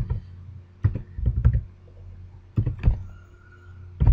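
Clattering keystrokes on a computer keyboard while Java code is entered for a matrix sorting program, coming in short irregular bursts separated by quiet pauses, close and fairly clear.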